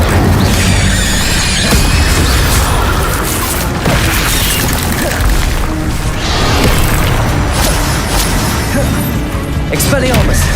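A continuous loud crash of spellcasting in Hogwarts Legacy, with the Incendio fire spell cast repeatedly. Booming bursts and crackling impacts pile up under a voice that shouts throughout.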